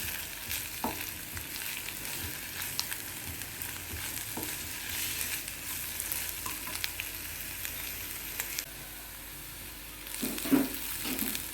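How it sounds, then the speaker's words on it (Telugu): Chicken liver frying with ginger and garlic in a pan gives a steady close sizzle with occasional stirring clinks, followed by a brief louder clatter near the end. "ఇలా వేగేటప్పుడే అల్లం వెల్లిపాయ వేసేయండి పచ్చివాసన పోయేదాకా చక్కగా వేసేసుకోండి"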